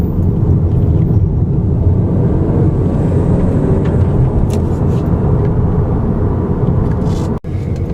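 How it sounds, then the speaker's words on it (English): A turbocharged car engine, the 2014 Volkswagen Beetle R-Line turbo or 2015 Audi A3 turbo, pulls hard in sport mode with a loud, steady broadband roar throughout, cutting off abruptly for a moment near the end. "in sport mode, this engine really hauls when you put the gas down"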